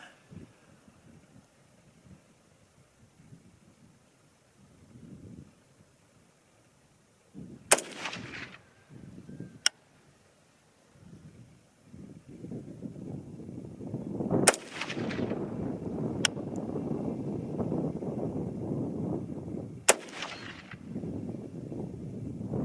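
Three sharp rifle reports from a Bear Creek Arsenal varmint rifle firing .223 50-grain rounds outdoors, spaced several seconds apart, each loud and abrupt with a short decaying tail over steady wind noise.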